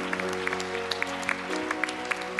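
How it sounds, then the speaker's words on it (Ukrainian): Scattered clapping from a congregation at a church service, a fairly quiet, brief round of claps over a sustained steady tone in the room. "Эти аплодисменты для вас."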